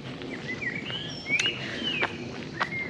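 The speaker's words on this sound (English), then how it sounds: "all different bird song in the morning" Several birds chirp and whistle in short, bright morning calls over a quiet background at a campsite in Essex, some notes sharp and clear, others softer and farther off.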